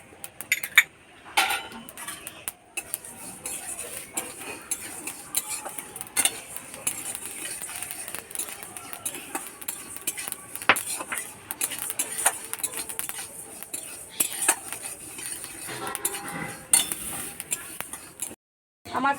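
A metal spoon scrapes and clinks steadily against a pan while white and black mustard seeds and other spices are dry-roasted, with irregular close tapping and rattling throughout and no talking.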